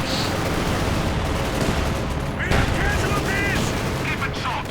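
Mortar and gunfire in a Company of Heroes 2 match, with German Panzergrenadiers and a Granatenwerfer mortar at the front line: a dense, steady rumble of battle with sharp reports, loud throughout and mixed under game effects.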